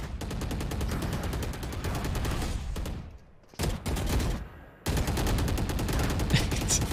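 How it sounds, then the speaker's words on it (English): Sustained rapid automatic gunfire in Counter-Strike during a one-versus-four clutch, with steady close shots that break off briefly and then resume just as loudly. "they just keep shooting"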